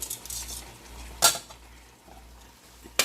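Beef and broccoli stirred in a pan, with utensils scraping and clinking against metal over a faint sizzle; a sharp clatter sounds near the middle and another right at the end, with no talking.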